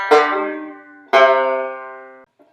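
A banjo phrase from Kansas City Railroad Blues, with two bright plucked chords or notes, each ringing and slowly decaying, close and solo without talk.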